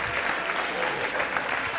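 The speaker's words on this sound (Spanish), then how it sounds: "¡Fuerte el aplauso, Carlitos!" A studio audience claps for a guest on a comedy podcast. The applause is brief, steady and fairly dense, and there is no speech over it.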